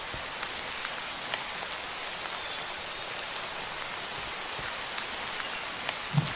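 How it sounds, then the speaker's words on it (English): Steady, dense rainfall from the reworked rain sound of the Minecraft video game, a continuous hiss of drops on surfaces with a few slightly louder drips and no voices. "reworked rain sound"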